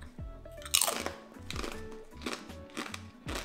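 Dried banana chips being bitten and chewed up close: several crisp, loud crunches in an uneven chewing rhythm, with no talking.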